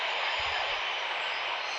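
A steady, broadband aircraft engine roar from the RFS flight simulator game, holding a constant loud hiss-like drone throughout the short stretch with no voices over it.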